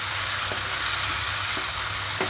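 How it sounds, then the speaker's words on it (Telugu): Tomato goes into an ivy gourd masala already frying on low flame, giving a steady, close sizzle with a few faint stirring scrapes and no voices. "ఒక నిమిషం అయిపోయిన తర్వాత ఇందులోకి టమాటా వేసుకుంటున్నాను"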